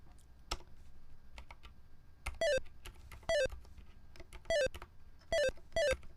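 Quick, irregular keystrokes on a computer keyboard during a typing game, clattering close by with bursts of bright electronic beeps and chimes from the game mixed in.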